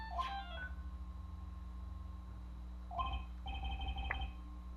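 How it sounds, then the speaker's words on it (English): A mobile phone ringtone from Phoenix Wright: Ace Attorney – Justice for All on WiiWare chimes in two short electronic melodic bursts over a low steady hum, with a quiet gap between them. "I bet it was this ringtone that caused it."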